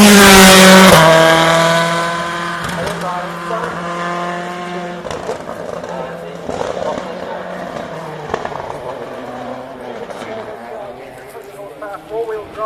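A four-wheel-drive rally car screams away loud and close at a Shelsley hill climb, engine note sweeping down as it pulls off, then fading into crackling, popping revs in the distance with a public-address voice talking over it.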